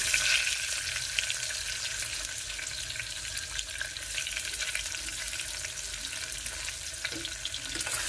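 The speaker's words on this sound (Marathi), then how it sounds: "कांद्याला मस्त लागून द्यायचे लाल होऊन दिले" Onions fry in a pan for a quick chicken biryani, giving a dense, continuous close sizzle with faint stirring scrapes and no voices.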